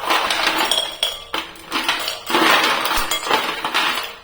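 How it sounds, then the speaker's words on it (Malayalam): Several bursts of hard, clinking clatter, like ice cubes tumbling into a bowl, in quick clusters close by with short pauses between them. "ഒരു ബൗളിലോട്ട് കുറച്ച് ഐസ് ക്യൂബ് ഇട്ട് കൊടുക്കാം"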